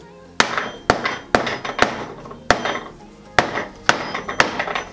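A hammer strikes a wooden board repeatedly to dent and age it for a rustic blanket ladder, about ten sharp knocks at an uneven pace, loud and close with short ringing decay.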